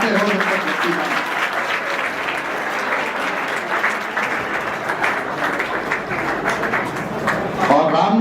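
A seminar audience gives loud, sustained applause for a guest being called to the stage, a dense steady roar of many clapping hands lasting throughout, with a voice faintly heard beneath.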